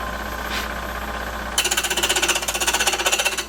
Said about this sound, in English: I've got it chucked up in my lathe here, and we're just going to kick it on, and we're just going to turn it to round.